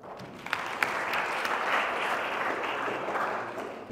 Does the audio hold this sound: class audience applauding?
yes